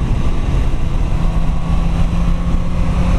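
Suzuki GSX S1000F motorcycle on a test ride, its engine a steady, loud broadband roar with heavy wind rush, holding constant throughout with no voices.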